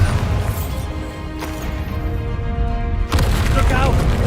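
A Bombarda spell blast in Hogwarts Legacy lands as a loud crashing boom over rumbling game noise, with a second heavy impact near the end and a voice speaking briefly.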